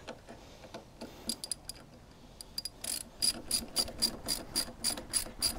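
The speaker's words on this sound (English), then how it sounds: "Take your 17 millimeter socket." Ratchet with a 17 mm socket tightening swingarm nuts on an 84–17 Softail motorcycle: quick bursts of sharp metallic clicking, sparse at first, then denser and louder in steady strokes toward the end.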